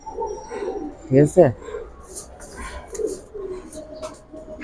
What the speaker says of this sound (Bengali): পাঙ্কি ফেটের কবুতর